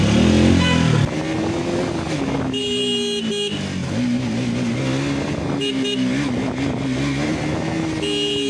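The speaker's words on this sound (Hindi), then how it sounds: "गाड़ी मोड़ रही है" A car turning on a road, with a close engine note rising and falling as it maneuvers amid steady road noise and brief horn-like tones.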